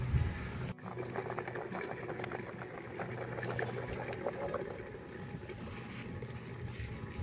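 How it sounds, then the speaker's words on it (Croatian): Bean stew bubbling in a cauldron over an open wood fire, a continuous close boil of popping bubbles and gurgles that runs steadily throughout, with no voices. "ostaviti sve zajedno da se krčka"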